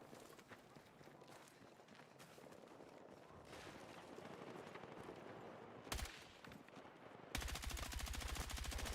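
Rapid gunfire from a gun picked up off another player in Battlefield 6 rattles faintly at a distance through busy game noise, then a louder sustained burst runs to the end.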